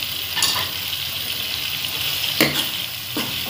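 Chickpeas stir-fried with chillies in a pan, a steady hiss of frying with a few brief scraping stirs, close and moderately loud with no talking.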